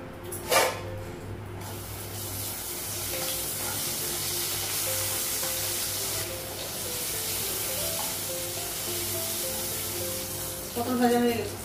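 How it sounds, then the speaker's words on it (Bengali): Pointed gourd (potol) fries in a pan with a soft continuous sizzle, with brief clatters of utensils near the start and end in a home kitchen. "পটল ভাজা হয়ে গেছে"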